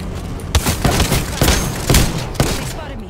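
Gunfire in an Apex Legends match: a steady series of sharp, loud shots spaced about half a second apart, close and punchy.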